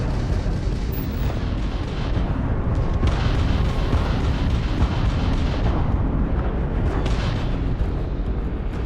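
Heavy weapons fire in a space battle against a Crimson Fleet ship in Starfield, a dense, continuous barrage of booming blasts and rumbling explosions that stays loud throughout with no pauses.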